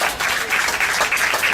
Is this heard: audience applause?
yes